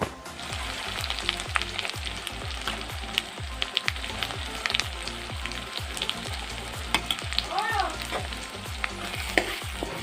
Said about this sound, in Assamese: এতিয়া এইখিনি ভাজিব লাগিব আকৌ